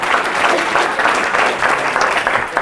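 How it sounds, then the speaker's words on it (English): Dense, loud applause from a live audience at a comedy or hypnosis show at Orange Hall, continuous clapping filling the whole moment with a faint murmur of voices underneath. "Big round of applause for"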